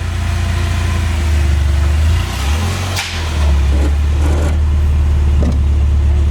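A Porsche 914 engine running loud and steady through a cold start, its low rumble dipping briefly at about three seconds before settling back into a rough, constant drone close by.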